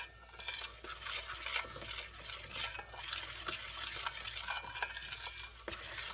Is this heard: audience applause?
no